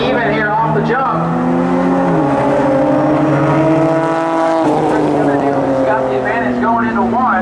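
Race cars launching side by side in a spectator drag race at New Smyrna Speedway, one a Nissan, engines roaring loudly and shifting pitch as they accelerate, close and continuous with a voice talking over them.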